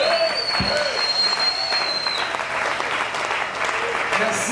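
Congregation at a church service breaking into sustained applause and acclamations, a dense continuous wash of clapping and cheering voices, loud and close throughout.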